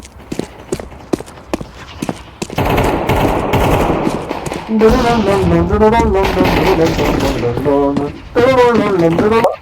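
Rapid automatic gunfire bursts from the video game Counter-Strike crackle loudly in the opening seconds, followed by steadier game sound and tonal music-like audio, with people talking over it.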